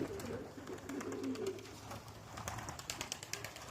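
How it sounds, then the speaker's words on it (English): Show pigeons coo softly amid a busy outdoor backdrop, with sharp flapping wing claps becoming more frequent toward the end as they fly, fairly near. "I got a lot of birds flying now"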